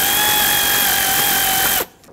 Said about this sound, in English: This clamp right here is just a regular hose clamp, so take an 8mm socket and loosen up the nut.